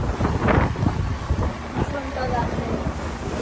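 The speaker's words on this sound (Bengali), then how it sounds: "বোট যত এগোচ্ছে আমরা তত আনন্দ করছি, প্রচুর পরিমাণে জল ছিটিয়ে আসছে এখন আমাদের দিকে" A boat moving at sea off Havelock in the Andaman Islands, with water splashing and steady wind buffeting the microphone in a continuous rushing roar, and voices heard faintly underneath.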